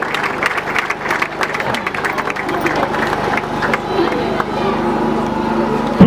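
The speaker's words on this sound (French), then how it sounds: "nous demandons de s'élever pour un applaudissement" A crowd applauds at the inauguration of the Mama Kalunga school in Kake, cheering the couple Patrick and Jolie Mboukou who built it; dense, steady clapping mixes with murmuring voices and background bustle throughout.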